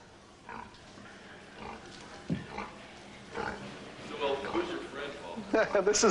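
Wilhelmina, a transgenic sow, grunting and snorting in short irregular bursts that grow louder and more frequent toward the end, close by with some background noise.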